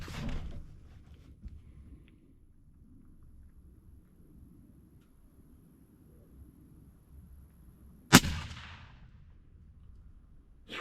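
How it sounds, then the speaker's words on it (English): A single sharp rifle shot rings out at the range while a Vortex Crossfire scope is being sighted in, a loud crack with a short trailing echo after a stretch of quiet outdoor background. "We're gonna shoot one more just to see."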